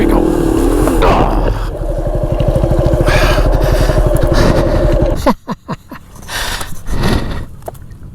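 A Yamaha WR250R dirt bike straining through mud on a trail at Prairie City SVRA, its engine revving loud and close before faltering into sputters and stalling coughs, with a rider's voice talking over it.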